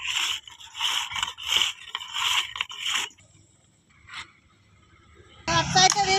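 A metal ring dusted with powder is rubbed by hand to smooth it, giving rough rhythmic scraping strokes for about three seconds, then a quiet stretch with a faint scrape, ending in a louder burst of mixed noise.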